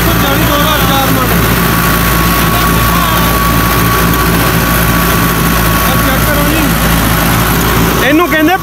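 A 2004 Fiat 640 tractor engine drones steadily and loudly under load while pulling a 60-cutter rotavator through a field, a continuous low rumble with constant mechanical noise throughout.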